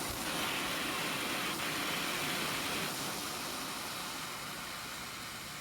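A propane torch burns steadily while heating the tip of a shovel clamped in a vise. It gives a continuous broad hiss and roar that stays nearly constant throughout, with no speech.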